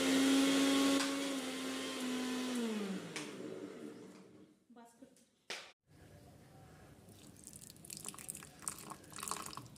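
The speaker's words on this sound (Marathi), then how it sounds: "आणि मिक्सरला बारीक करायचं" A kitchen mixer grinder whirs loudly, grinding bourbon biscuits with milk for homemade ice cream, then winds down and stops before quieter clatter and handling noises follow, close up, with no talk.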